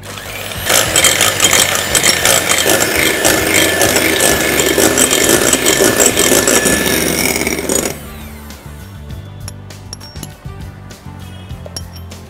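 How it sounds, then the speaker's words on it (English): An electric mixer whisks egg whites with a pinch of salt toward stiff peaks, a loud continuous whirring and rattling against the bowl that drops to a lower, quieter grind for the last few seconds. "this will help whisk up the egg whites really well, and they'll hold their peaks very well too"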